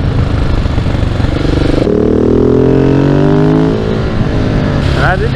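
A KTM 690 supermoto engine roars loudly and steadily, its pitch climbing as it revs, with faint voices buried under the noise.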